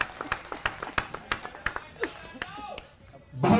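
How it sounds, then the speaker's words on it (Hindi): A crowd claps to welcome Arvind Kejriwal at a gathering of auto drivers in Delhi, a scattered, uneven run of sharp claps that thins out before a louder burst of noise at the end. "जोरदार तालियों से स्वागत करेंगे परम आदरणीय श्रीमान अरविंद केजरीवाल जी का।"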